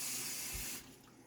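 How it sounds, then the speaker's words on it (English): A faint, short hiss as water is poured over cucumber seeds, running for under a second before cutting off into quiet. "I'm going to add a little bit of water so you can see."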